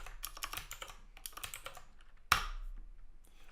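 Quiet, rapid typing on a computer keyboard in uneven bursts of light clicks, with one sharper key strike near the end and a soft background hum.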